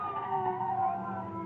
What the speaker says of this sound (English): As you hear the police car stop outside